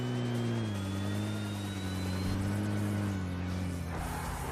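A car engine drones steadily while driving in a video game, a continuous mid-pitched hum with a slowly falling tone, loud and close with no talking over it.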